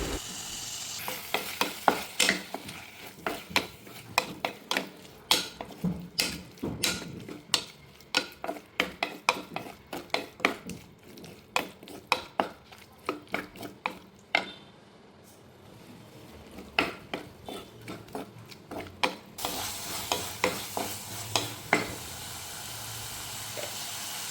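Tomato and dried anchovies stir-fried in a pan, with a constant sizzle and steady rhythmic scraping of a spatula against the pan, up close and with no talking.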